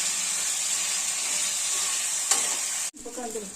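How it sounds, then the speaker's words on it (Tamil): Brinjal and shallots sauté in an oily pan with a steady, loud sizzle, a brief clatter of stirring near the end, then a quick cut to softer sizzling and scraping. No one speaks. "சின்ன வெங்காயத்தையும் சேர்த்து வதக்கணும்"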